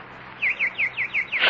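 Six bright, evenly spaced chirps from a pet nightingale ring out close and clear in a quick, regular sequence in a quiet room.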